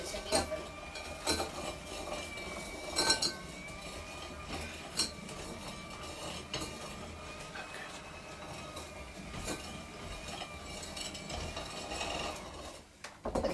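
Cupcake batter is beaten until light and fluffy during a kids' cooking class, with a steady, close mechanical whir running throughout and scattered light clinks of utensils against the bowl.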